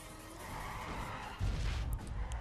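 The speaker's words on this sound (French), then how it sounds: "Dérapage." A car skids in the racing video game The Crew, a sustained broad tire-sliding rush with a heavier low thump midway, steady and fairly loud with no talk over it.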